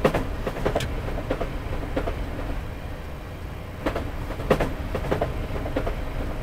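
An empty passenger train runs toward Luton in Train Simulator 2018, with a low rumbling rolling drone and periodic clickety-clack wheel beats over rail joints, heard alone without voices.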